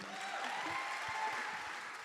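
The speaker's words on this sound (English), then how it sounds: "Round of applause for Julia" An audience applauds a guest named Julia with a steady, fairly soft wash of many hands clapping that holds evenly throughout.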